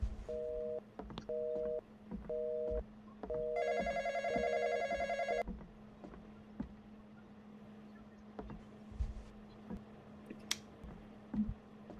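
In the Roblox horror game The Intruder, a telephone rings in short repeated bursts, then a longer electronic ring, followed by quiet background hum and scattered small clicks.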